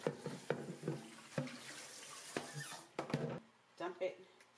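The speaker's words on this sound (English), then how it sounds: "So now I'm going to go ahead and get rid of that water, rinse this out." Water dumped out and hair bundles and a lace frontal rinsed under a running tap at a sink, bursts of splashing and gushing in several short runs, with a voice talking in between.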